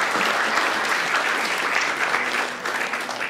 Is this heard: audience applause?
yes